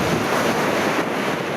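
Surf rolling onto a long, empty West Coast beach in Australia, a steady broadband wash of breaking waves with wind buffeting the microphone, continuous and fairly loud with no voices.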